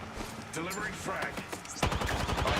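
Rapid bursts of video game gunfire crackle steadily in a firefight, dense volleys growing louder and sharper toward the end, with speech mixed in.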